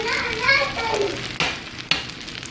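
Chopped onion and green pepper frying in a hot pan for Haitian spaghetti, a steady loud sizzle with a couple of sharp clatters of a utensil or lid, with children's voices in the background.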